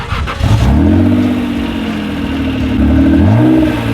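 A first-generation Honda NSX's engine revs hard and close, a loud sustained mid-pitched drone that climbs, holds, dips briefly and climbs again, with no talk over it.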